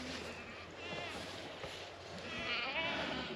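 Kiko goats bleat on a farm in Bonham, Texas after a winter storm, a few wavering calls rising over steady outdoor background noise, with a voice speaking faintly underneath.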